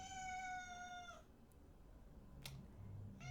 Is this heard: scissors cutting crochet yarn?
no